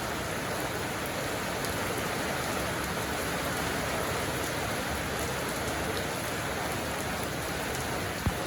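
Steady rain falls throughout, a dense even patter of drops on surfaces, close and continuous with no voices.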